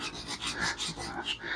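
A knife edge scrapes a new ferro rod striker to rub off its black coating, giving rapid rough rasping strokes in a quick back-and-forth rhythm, close up at a winter camp.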